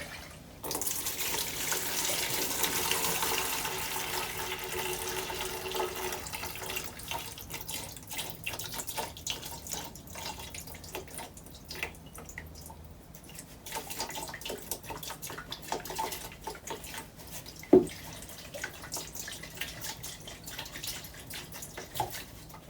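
Gasoline pours out through the top of a Yamaha TTR125 fuel tank, running as a faint, steady liquid stream that trickles and splashes, with one brief knock near the end.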